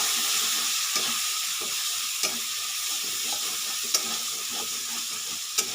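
Chili powder and spices being stirred in a hot pan for a jackfruit and prawn dish, a steady close sizzle with scraping spoon strokes and occasional sharp clinks against the metal.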